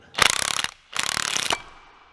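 A socket ratchet tightening a bolt on a Ski-Doo 850 snowmobile clutch gives two quick bursts of rapid clicking pawl ticks, each under a second, close and crisp with a brief gap between them.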